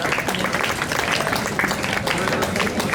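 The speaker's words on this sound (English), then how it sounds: "Applause, ladies and gentlemen, for the Massai fighter." An audience at a beach resort evening show in Zanzibar applauds a Maasai fighting performance, with dense, steady clapping from a crowd and a voice talking over it.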